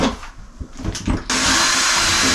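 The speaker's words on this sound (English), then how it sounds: "doesn't matter which drill you use, you need an extender" A power drill whirs in short bursts, then runs steadily at high speed, close and loud, driving long screws into a plastic Keter Darwin 6x8 shed, with no talking.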